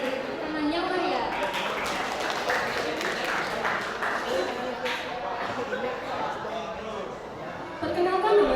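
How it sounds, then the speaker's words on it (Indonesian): Applause from a school audience at an Indonesian madrasah graduation and farewell ceremony, dense and steady throughout with chatter and children's voices mixed in. "Kita beri tepuk tangan yang meriah."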